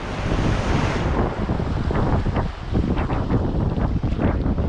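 A strong headwind buffets the microphone on a fishing boat at sea during barramundi and trevally fishing, giving loud, constant roaring gusts mixed with the wash of waves.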